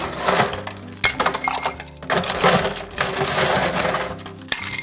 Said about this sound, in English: Add some ice to our mixing glass.